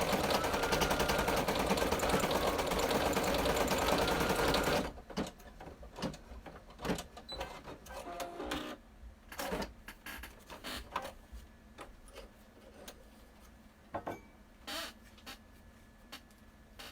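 An embroidery machine stitching a treat pouch in black thread runs in a loud, continuous mechanical whir for about five seconds, then stops, leaving scattered clicks and light handling noises.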